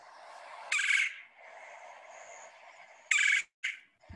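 Two short rolling, churring calls of a red-bellied woodpecker in winter, a few seconds apart, with a brief third note at the end over quiet background hiss.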